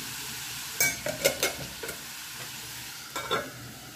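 Chopped banana flower sautéing in a pan with salt, a few scraping stir strokes clustered near the start and again later, over a faint steady sizzle, close and alone.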